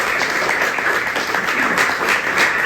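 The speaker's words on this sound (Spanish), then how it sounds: "Un fuerte aplauso para nuestra palabra." A church congregation applauds, a dense burst of many hands clapping together, steady and moderately loud throughout the brief moment.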